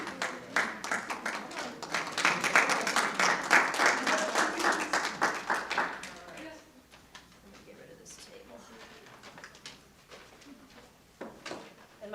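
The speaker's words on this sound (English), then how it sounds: "another round of applause for our outstanding students of the month" A school audience applauds outstanding students of the month, with several seconds of lively clapping that fades into scattered claps, murmuring voices and a few thuds, then a brief renewed patter of clapping near the end.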